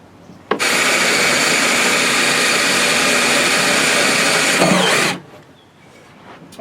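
A power drill bores a leg hole into the wooden frame of a homemade cornhole board. It runs as one loud, steady whine for about four and a half seconds, then cuts off into quiet.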